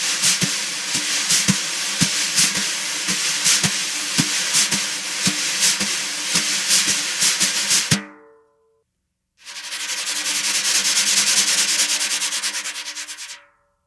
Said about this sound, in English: we're just going to use 400 grit sandpaper and basically just rub it around in concentric circles